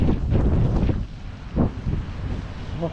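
Gusty wind blowing outdoors in snowy weather in Canada, a continuous broadband rush buffeting the microphone, loud at first then easing slightly, with faint voices barely present.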